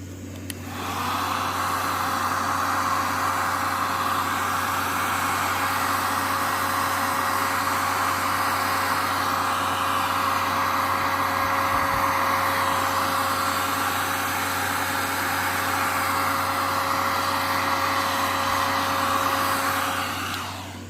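A heat gun blows steadily and loudly while homemade soft plastic fishing baits are being shaped, a constant airy roar with a whining motor tone that runs without pause for about twenty seconds.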